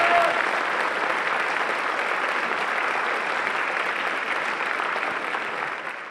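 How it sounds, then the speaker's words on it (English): Audience at a high school band spring concert breaking into a big round of applause, loud sustained clapping from a full crowd that holds steady throughout. "let's give our administration and our school board a big round of applause"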